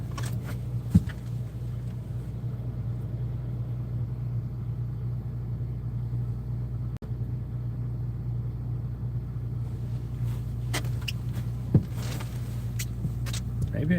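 A truck engine running, a steady low idle hum with a faint rumble that holds for the whole stretch, quiet and close, with a few soft knocks and clicks over it.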